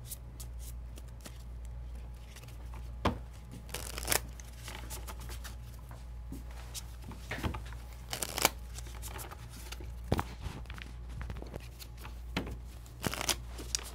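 A deck of cards for The Spoils trading card game being shuffled up close, a steady papery riffle broken by several sharp snaps and clacks, with no talk.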